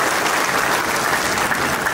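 Dense, steady audience applause fills a lecture hall as students who passed exams in grades 1 to 8 are congratulated. It is loud and continuous, with no voices over it.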